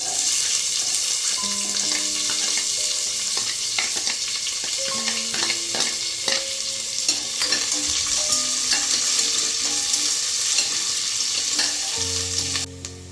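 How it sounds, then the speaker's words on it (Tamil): Onion frying in ghee gives a steady sizzle throughout, with a spoon stirring and scraping the pan and occasional clinks. "அப்புறமா ஒரு வெங்காயம் சாப் பண்ணி வச்சுக்கிட்டு போட்டுக்கலாம்."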